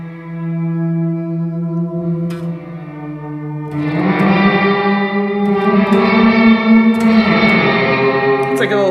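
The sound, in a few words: guitar notes through Empress reverb pedal, reverse reverb swell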